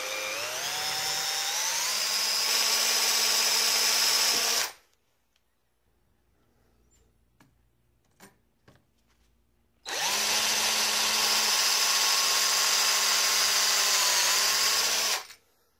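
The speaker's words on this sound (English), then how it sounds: "Now drill a hole clear through." Power drill spinning a number 21 bit through aluminum while fitting a 75mm throttle body to a Dodge/Jeep/Chrysler 4.7, two loud sustained whining bursts of about five seconds each, separated by a quiet gap with small clicks.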